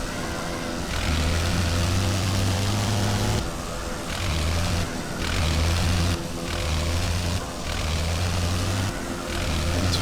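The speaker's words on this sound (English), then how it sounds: "When you're blipping the engine constantly, it really doesn't like that" A WWI aircraft engine in Wings Over Flanders Fields drones loud and close, cutting out and surging back in a regular on-off rhythm roughly every second or two as it is blipped repeatedly.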